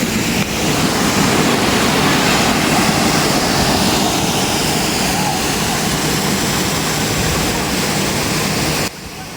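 Durgapadu waterfall, a jungle cascade on the Andhra–Odisha border, gives a loud, steady broadband roar that holds even and close for the whole stretch, then drops slightly near the end.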